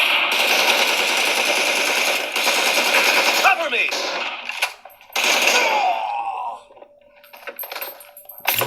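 Sniper rifle fire from an M24 in a mobile shooter game, heard as loud sustained bursts of gunfire and clattering effects with brief gaps near the end.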